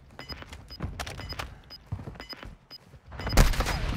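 Video game gunfire in a trios match, bursts of rapid shots crackling through a busy mix with a heavier volley near the end.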